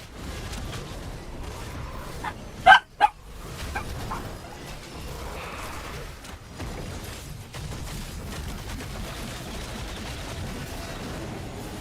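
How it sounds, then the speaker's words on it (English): Dogs barking inside a room during a game stream, a couple of sharp loud barks near the start over a steady bed of game music and ambience. "My dogs are a little bit loud."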